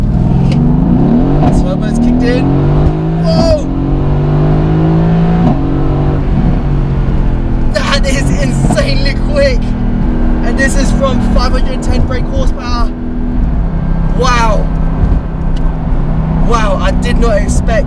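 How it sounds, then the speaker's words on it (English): Mercedes-AMG GT S twin-turbo V8 accelerating hard, loud rising engine roar with several gear changes close by, with speech and exclamations over it. "Here we go. Turbos kicked in."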